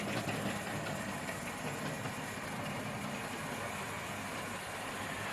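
A small Hornby toy train set runs steadily along its track, a constant whirring motor with a light rattle of wheels close by.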